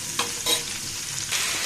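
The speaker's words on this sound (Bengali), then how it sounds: "কাঁচামরিচ, রসুন, পেঁয়াজ একসাথে আমি ভেজে নিচ্ছি" Green chili, garlic and onion stir-frying together in hot oil: a steady close sizzle with a few brief louder scrapes of stirring, and no voices.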